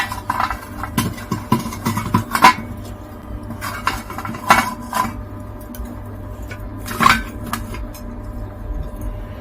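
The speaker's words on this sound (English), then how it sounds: "I'm going to cover it. And then on top of my pot here, I'm going to add some charcoal" A pot for a red velvet cake being covered with its lid, then charcoal pieces added on top: scattered metallic clanks and gritty scraping rubs close by, with quiet gaps between.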